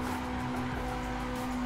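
A car drifting in the Assetto Corsa racing game, engine holding a steady high droning note with tire squeal layered over it, loud and continuous through a short burst, no voices.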